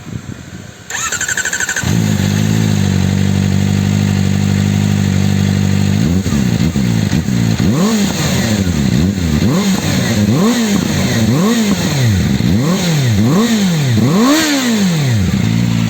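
A black Kawasaki motorcycle starts up and idles loudly close by, then the engine is revved hard in a series of rising and falling bursts that grow more frequent toward the end.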